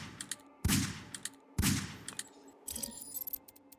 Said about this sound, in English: he's firing some sort of SVD, or I don't know, probably whatever rifle